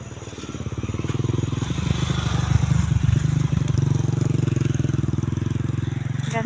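A motorcycle engine runs close by near a hanging bridge, its rapid rhythmic chug steady and rising slightly as it passes, heard on its own without speech.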